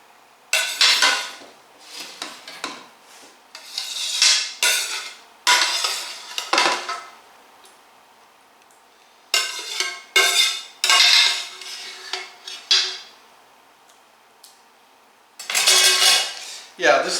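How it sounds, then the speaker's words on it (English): Bean and veggie mixture for a meatless Tex-Mex casserole being spooned into a casserole dish, with repeated bursts of clinking and scraping from a spoon against cookware, separated by quiet pauses. "then once again add the bean and veggie mixture"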